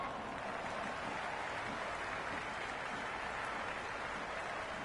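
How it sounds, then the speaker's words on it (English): A stadium crowd in the cricket video game Cricket 26 keeps up a dense, continuous roar of cheering and noise, loud and unbroken throughout. "The crowd are really getting quite raucous."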